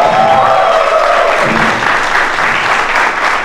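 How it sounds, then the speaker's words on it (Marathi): Loud, dense applause from an audience, sustained clapping filling the whole moment with a faint tone fading early on. "एकदा सगळ्यांसाठी जोरदार टाळ्या"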